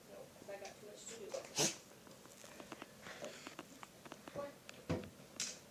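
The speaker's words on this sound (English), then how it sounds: "It's a lot of sneezing" Repeated sneezing from a person, with sharp bursts near the start, middle and end, set against a quiet room with faint background voices.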